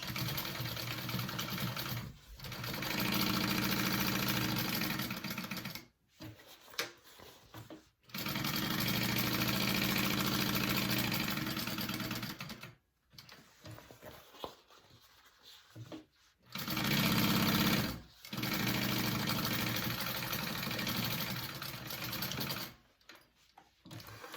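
Domestic sewing machine stitching a quarter-inch seam on a crossbody bag, its fast steady motor hum running in several long bursts separated by short pauses, close and clear with no talk.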